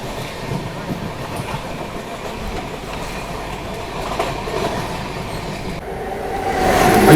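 Marathwada Sampark Kranti Express running on rails, a steady rumbling roll with faint clickety-clack from the wheels that swells louder near the end.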